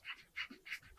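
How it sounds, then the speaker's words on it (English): A dog pants and lets out soft whimpers indoors, a quick rhythmic series of breathy huffs with faint whines, close but quiet. "You are so distracting, dog."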